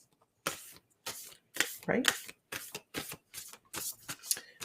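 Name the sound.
shuffling a deck of cards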